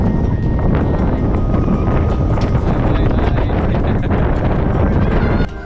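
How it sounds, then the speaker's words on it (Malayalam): Heavy wind on top of a watch tower in Silent Valley batters the microphone in a constant loud roar, gusting slightly, before cutting off abruptly at the end. "ഈ ഒരു ടവറിന്റെ മുകളിലും നല്ല കാറ്റാന്ന് ഞാൻ പറഞ്ഞില്ലേ"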